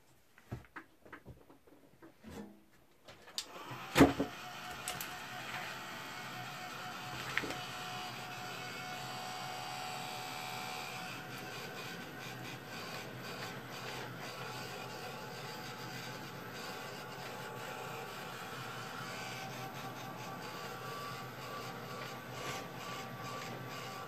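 Heat gun blowing over a crafted card to dry it, a steady whooshing fan roar that starts after a few handling bumps and runs evenly and continuously.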